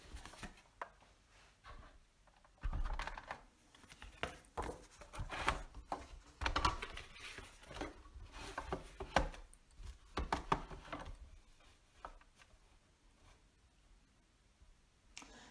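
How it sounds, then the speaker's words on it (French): Paper card pieces being cut for a handmade craft card, with irregular soft snips and rustles close by and quiet pauses between them, with no voice. "Je vais procéder à présent à la découpe de mes éléments sur ma carte de base."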